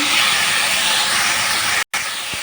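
Cumin paste hits a hot pan of frying fish roe and pointed gourd, giving a loud, steady broadband sizzle that cuts out abruptly for a moment near the end before resuming.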